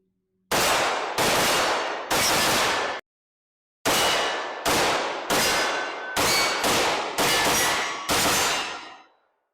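A Palmetto State Armory AR-15 rifle fires a string of about nine loud, sharp shots outdoors, mostly at an even steady pace with one short pause after the first three, each crack followed by a brief ringing decay.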